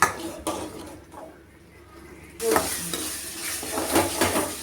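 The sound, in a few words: masala paste sautéing and sizzling in oil, being stirred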